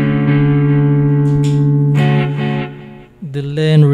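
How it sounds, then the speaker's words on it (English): Electric guitar from a DIY-wired LP-style instrument run through a delay effect, sustained notes ringing with echoing repeats and a few picked notes, ending in a bending phrase; close and fairly loud. "Let's add some delay."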